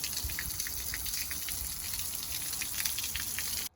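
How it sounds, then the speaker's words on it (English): Water rushes steadily through the flush hose of a new Mercury 20HP outboard motor, a constant hissing gush at moderate level that cuts off abruptly at the end. "So it's just gonna run water through there."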